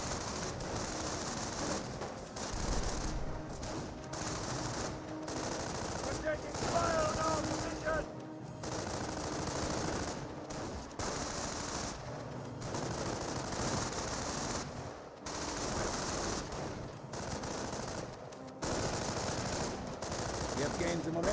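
Sustained gunfire from a Company of Heroes 1 battle, grenadiers trading shots with riflemen: dense, continuous rattling volleys with brief gaps, loud and steady under a commentator's running talk.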